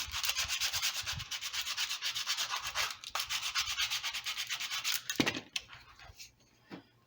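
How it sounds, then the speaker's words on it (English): Rhythmic sanding strokes on the top bracing of an acoustic guitar, scraping steadily back and forth up close for several seconds before slowing to a few scattered rubs and taps. "I'll sand it down flat, clean it up."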